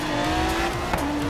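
A Lamborghini driving in Forza Horizon 3, a loud, steady engine drone from close by with a brief tire squeal, heard alone.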